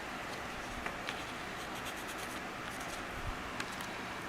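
A pen or pencil scratches lines onto a paper template for Honda Sabre cafe motorcycle parts, a close, continuous scratchy rubbing with a few short stroke accents and no talking.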